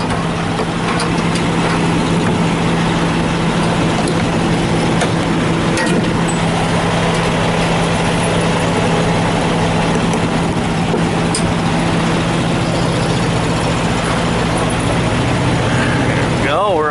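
A semi truck backing up to hook onto a trailer, its heavy diesel engine droning in a steady, loud, low rumble with a constant hum throughout.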